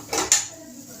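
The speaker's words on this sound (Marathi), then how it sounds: "झाकण ठेवून गॅस बंद करतो" A lid set down on a pan of drumstick-leaf (shevga) vegetable on a gas stove gives one sharp metallic clink, with a softer clatter just before it, then a quiet kitchen room tone.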